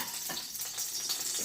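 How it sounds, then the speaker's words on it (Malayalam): Mustard seeds crackle and sizzle in hot oil while cooking chena (yam) curry, a brief, steady spitting hiss heard up close. "അതുകൊണ്ട് ഞങ്ങൾ കടുക് പൊട്ടിച്ച്"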